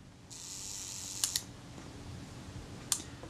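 A Kodak Retina IIIc camera with oily shutter blades gives faint mechanical clicks, a quick double click and then a single click later, over a soft background hiss.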